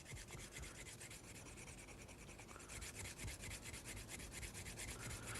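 Horse clipper blade being sharpened on its bevel against a 600 grit surface, a steady, rapid rasping rub repeating in quick strokes close up throughout, with no talk.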